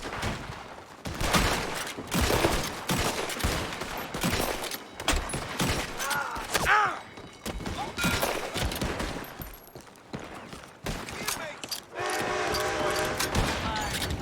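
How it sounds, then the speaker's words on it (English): Gunmen fire from a building in Red Dead Redemption 2, a chaotic fusillade of repeated close rifle and pistol shots with ricochets and scattered impacts, some shouting in the mix, and a dense rattle near the end. "They're shooting from that building."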